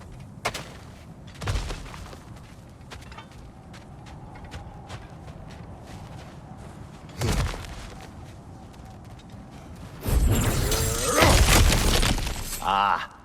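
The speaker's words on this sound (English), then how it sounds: "back to smashing through things for fun and profit" Objects being smashed and shattered in the video game God of War Ragnarok, with loud breaking crashes at intervals and a dense burst of debris near the end, over game ambience and footsteps.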